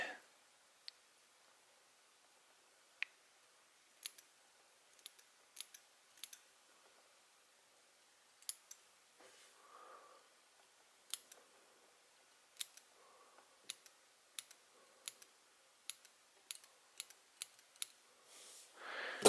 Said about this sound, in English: trim off some of the hackle fibers that are out here by the eye